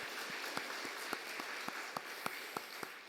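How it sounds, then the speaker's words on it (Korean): A church congregation at a Sunday service applauds, soft distant clapping with a few sharper individual claps standing out above a faint room hum. "박수로 감사합니다."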